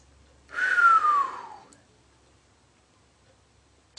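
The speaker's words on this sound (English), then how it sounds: "I never knew I could whistle." A single breathy whistle sliding downward in pitch, lasting about a second, heard alone against near silence.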